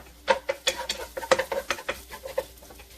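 Chopped garlic and onions go into a pan for a turkey shepherd's pie, giving a series of close, distinct stirring clatters and light sizzling bursts in an irregular rhythm.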